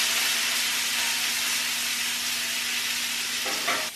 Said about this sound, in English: Got a good sear going.